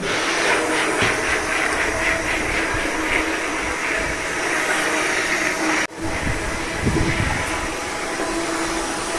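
An electric grinder runs continuously while crushing ice, a loud steady whirring hiss with a brief dip partway through, close by.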